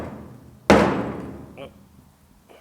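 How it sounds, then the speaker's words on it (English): A single sharp metallic bang as car body metal on a GTO restomod is struck with a hand-held dolly, followed by a faint ringing decay and a light tap. "I'll try it with just the dolly in my hand first."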